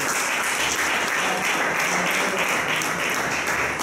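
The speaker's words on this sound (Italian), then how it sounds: "vi prego di fare un applauso a loro più che a me" Brief burst of dense, steady audience applause at a meeting of the Union of Municipalities after a presidential appointment, many hands clapping close and loud.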